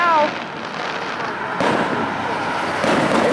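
Fourth of July fireworks bursting outdoors, a sharp bang followed by rumbling crackle and another swell of booms, a brief voice at the start.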